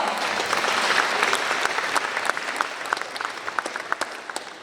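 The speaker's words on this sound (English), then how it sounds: "Round of applause to her as well" Audience applause at a county Teacher of the Year ceremony, honoring a staff member; dense clapping that starts full and gradually thins toward scattered individual claps.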